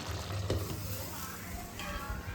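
Boti (goat tripe) frying in a pan, a steady close sizzle with a stirring scrape partway through.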